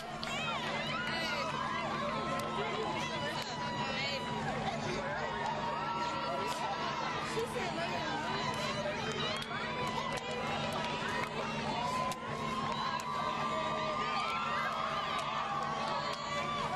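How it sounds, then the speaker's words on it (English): A school and community crowd cheers and chatters steadily as a sports team weaves through to board its bus at a send-off, a dense, continuous roar of voices close by. "As the team weaved through the crowd to reach the bus."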